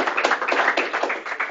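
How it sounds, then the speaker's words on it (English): Audience clapping for a speaker at a tech talk on Webpack, a brief, steady patter of many hands at moderate loudness with no talk over it. "All right, and applause for Sean."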